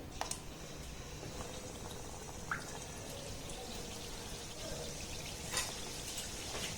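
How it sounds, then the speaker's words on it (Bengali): Flour and sugar biscuits deep fry in medium-hot oil, making a dense, even bubbling sizzle close up with occasional sharper pops and crackles throughout. "এবার এটাকে আমি তেলের মধ্যে দিয়ে ভেজে নেবো"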